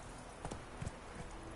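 A horse in The Witcher game gallops in a few soft hoof thuds over a steady background bed, brief and fairly faint.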